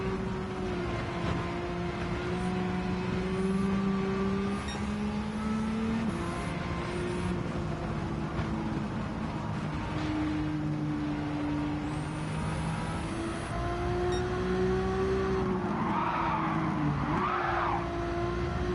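A Nissan Skyline race car in Gran Turismo 7 drives hard with a continuous engine drone that rises and falls through gear changes, with tire squeals and skidding near the end.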